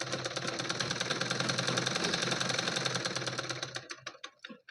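A sewing machine runs steadily while stitching a fall onto a saree, its rapid needle clatter close and continuous for nearly four seconds before slowing into a few separate stitches and stopping.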